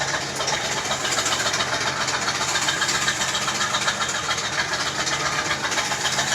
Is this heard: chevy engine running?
yes